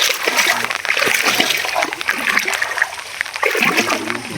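Water splashes and churns continuously as a china fishing net is hauled up out of a village wetland, a close, loud, steady sloshing throughout.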